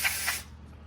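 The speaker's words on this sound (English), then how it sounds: "spray it out as best I can" A short, forceful hiss of carburetor cleaner sprayed into a lawn mower carburetor, loud for under half a second before fading into a quiet room tone.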